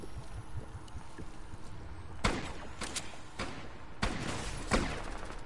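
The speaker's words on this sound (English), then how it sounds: "They are now shooting me." Other players fire guns in Fortnite, producing a handful of separate sharp shots spaced a fraction of a second apart over a low background rumble, some slightly louder than others.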